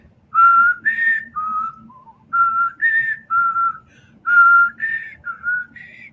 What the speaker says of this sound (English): I can't whistle any higher.